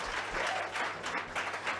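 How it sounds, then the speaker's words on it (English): Round of applause from a live audience at an indoor chat event, a short, moderately loud burst of clapping with a steady patter and no talk over it. "Let's give him a round of applause"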